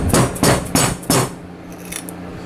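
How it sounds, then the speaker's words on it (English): Four sharp metallic hammer blows on heat-treated O1 tool steel, evenly spaced, followed by a ringing fade and quiet room tone. "I'll even get a little bit of a hammer action going"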